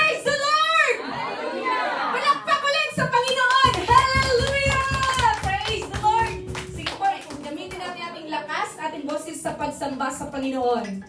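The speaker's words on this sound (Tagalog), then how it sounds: "Palakpak ulit sa Panginoon!" A church congregation at a praise and worship service claps together in a quick rhythmic burst, mixed with chatter, children's voices and shouted praise over the top.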